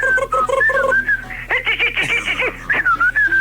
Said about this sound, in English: I like your new whistle.